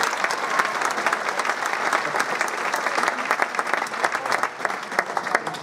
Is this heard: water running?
no